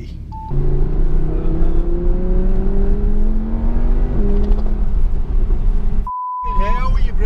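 An Audi R8 V10 Plus engine rising in a long steady rev, a loud droning tone climbing in pitch before a brief dip and a sharp cut, with a beep at the start and near the end.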